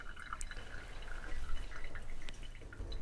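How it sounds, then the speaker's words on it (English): Water dripping from a faulty check valve on a Febco 825Y backflow preventer, quiet close-up drips and trickles scattered irregularly over low background noise. "there it goes again, dripping."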